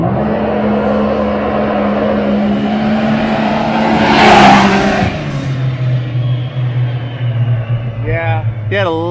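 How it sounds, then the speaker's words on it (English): Mitsubishi Lancer Evo, stage 5 tune, launching from a standstill in a two-wheel-drive launch with tire spin: a loud, sustained engine roar that swells midway, then drops to a lower steady drone, with brief rising squeals near the end. "A tire spin on that one."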